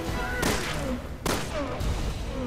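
In Resident Evil Revelations 2, two sharp explosion blasts burst out about a second apart, each a loud broadband crack that decays quickly over game sounds.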